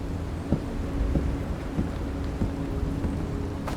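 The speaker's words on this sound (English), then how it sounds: "Ooh, it's raining." Steady rain hisses throughout with a low rumbling underneath and a few soft thuds, like distant thunder rolling in a stormy scene in the video game Road to Vostok.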